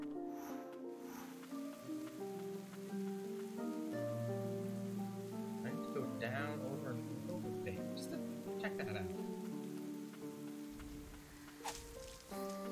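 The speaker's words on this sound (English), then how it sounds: "Now, this might be normal rain" Rain in the video game Ender Lilies, a soft steady patter beneath layered sustained music, with brief crackling near the end.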